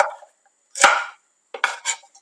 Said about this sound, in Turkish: Evet, fasulyelerimi doğradım